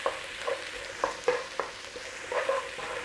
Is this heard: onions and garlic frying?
yes